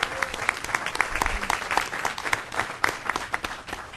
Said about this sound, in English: give a great round of applause to the members at the DRCOG board table who've got 5 years